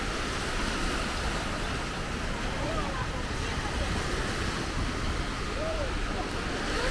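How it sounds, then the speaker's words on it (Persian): Sea waves wash onto the shore in northern Iran (Mazandaran), a steady broad surf roar with wind noise, heard alone without talk. "قدم زدن کنار دریا و شنیدن صدای موجهای دریا"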